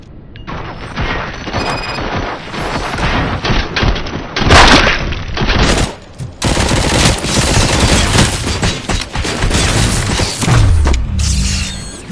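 Heavy gunfire fills a firefight in the video game Robocop: Rogue City, with dense automatic bursts, booming impacts and mechanical clanks, loud and nearly constant with only brief gaps.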